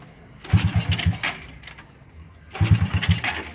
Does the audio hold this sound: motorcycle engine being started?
yes